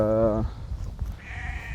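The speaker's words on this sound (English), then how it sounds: "Those are sheep and goats." Sheep and goats bleat in a rural Kenyan village, one loud nearby bleat at the start followed by a higher, thinner call, with ambient outdoor noise and a person talking around them.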